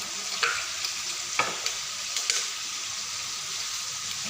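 Bay leaf, cloves, cardamom and cinnamon frying in hot oil in a pan make a steady, bright sizzle, with a few crisp ticks and pops from the spices and no talking.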